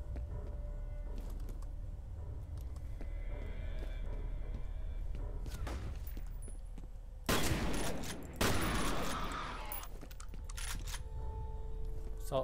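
A shotgun fires in the first-person shooter game F.E.A.R., with two loud, harsh back-to-back blasts in the middle of a quiet stretch of game ambience and faint clicks, and no talking.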